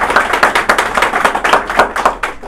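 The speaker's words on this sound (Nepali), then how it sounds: "एकपटक जोरदार तालीले डाक्टर लिमलाई फेरि" Loud, sustained applause from an audience at a DXN company event, welcoming the company's founder and CEO to the stage, with dense, overlapping hand claps filling the whole stretch and no speech.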